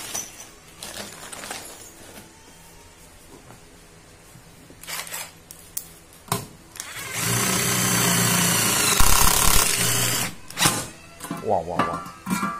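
A cordless hammer drill runs in loud, harsh bursts, with one long sustained run in the middle and shorter clicks and handling noises around it, while someone talks at intervals.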